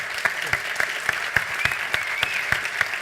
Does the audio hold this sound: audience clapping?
yes